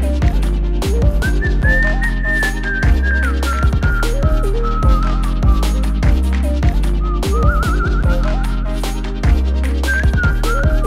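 Someone whistles a wandering melody over busy instrumental music with steady percussion, the whistled notes rising and falling throughout.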